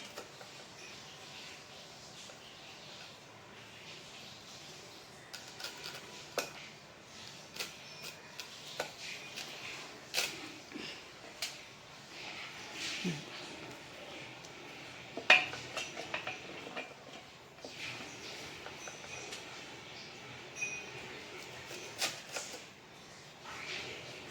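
A knife works through jackfruit on a board, making soft scraping and irregular sharp taps with occasional clinks of utensils, faint and close throughout a long quiet stretch.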